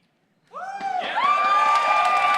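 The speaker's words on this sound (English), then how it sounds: "Bomber, this crowd has been going nuts for you this entire tournament" A large crowd at a StarCraft 2 tournament bursts into loud cheering and whooping after a moment of silence, with shrill shouts rising over a steady roar that holds to the end.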